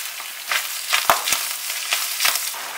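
Minced meat frying with onions and peppers in a pan, a crackling sizzle broken by several sharp scrapes and knocks of a spoon stirring, close and fairly loud, no voices.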